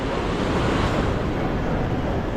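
A surging mountain river near Govindghat on the trek toward Ghangaria roars loud and close, a dense, unbroken rush of churning water with no voices.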